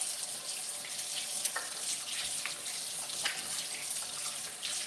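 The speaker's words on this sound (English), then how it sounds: "Let me rinse." Kitchen tap running steadily as something is rinsed under it in a sink, a fairly quiet, even hiss of splashing water with a few small clinks.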